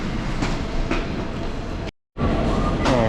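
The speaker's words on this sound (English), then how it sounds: "going down the platform now. Oh, look at that. It's very underground." Metro train running through an underground station in Rome, a steady loud rumble of wheels and carriage noise that drops out abruptly for a moment before resuming.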